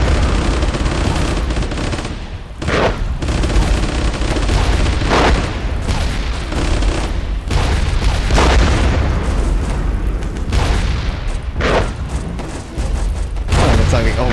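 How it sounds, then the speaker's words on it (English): Artillery barrage in the video game Warfare 1944: loud, dense booming blasts repeat every couple of seconds over constant gunfire and battle noise, close and heavy. "Artillery support."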